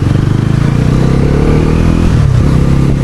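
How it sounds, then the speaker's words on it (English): A 2025 NS 400 motorcycle with a bi-directional quick shifter rides at speed, its engine droning loudly and steadily close up, with a slight dip and shift in pitch near the end. "the quick shifter is now on board. So let me try it out."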